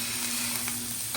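Raw carrot and onion whites sizzle on a flat-top griddle set to low, a steady close frying hiss that runs the whole short moment without talk.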